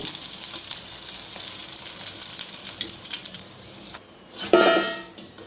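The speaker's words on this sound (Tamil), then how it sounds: "எண்ணெய் வச்சு நல்லா காஞ்சதுக்கப்புறம் பானிபூரியை இதேமாரி பொறிச்சு எடுத்துக்கோங்க" Pani puri shells fry in hot oil in a home kitchen, giving a continuous close sizzle with a few light scraping stirs and a louder crackling burst near the end.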